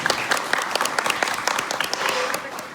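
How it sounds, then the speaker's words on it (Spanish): A warm round of welcoming applause from a class audience greeting an engineering lecturer, sustained crowd clapping with sharp individual claps throughout. "les pido un caluroso aplauso para darle la bienvenida al ingeniero"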